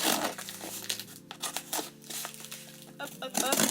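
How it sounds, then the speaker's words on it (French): Scissors snip open a parcel of vintage clothing during an unboxing, with close crinkling and tearing of packaging in quick, irregular bursts over a faint tonal background. "Toujours armée de mes ciseaux."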